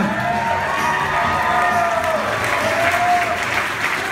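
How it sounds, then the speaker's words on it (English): Wedding guests clap and cheer for the couple, steady applause mixed with whoops and excited shouts from a close crowd. "But a big round of applause for Lizzie and Ben."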